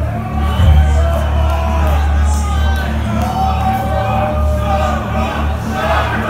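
A crowd at a black metal concert at RE:Public in Minsk screams and cheers. The roar is sustained, with scattered shouts and whoops over a low stage hum, and a voice cuts in briefly.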